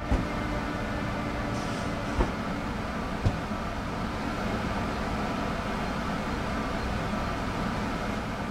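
Locomotive in Train Sim World 4 on the Vorarlberg route, reversing: a steady, dense rumble of rail and engine noise with faint clanks, continuous and even throughout, no voices.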